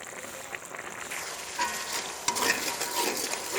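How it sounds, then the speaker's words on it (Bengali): Spice paste for a country chicken curry sizzles in a pan while being sautéed and stirred, a close, continuous frying hiss with scraping strokes that grow louder in the second half. "এটাকে ভালো করে কষিয়ে নিতে হবে"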